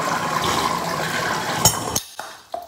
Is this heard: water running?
yes